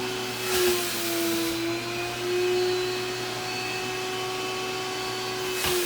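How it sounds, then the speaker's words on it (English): A portable upholstery extractor pulls suction through a long hose on a burlap and cotton settee, a continuous close whine with slight rises and dips as the wand moves. "a portable extractor, and we're only using, I think that's maybe 10 or 15 foot of hose. So you're really getting maximum suction."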